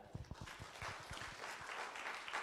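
Audience applause at a youth employment conference, a dense patter of clapping that builds after a brief start and holds steady at moderate loudness.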